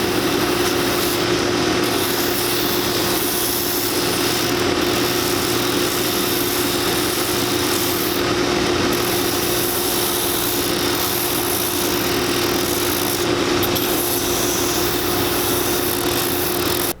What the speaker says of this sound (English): We're going to have to finish trimming these out and cut around, sand them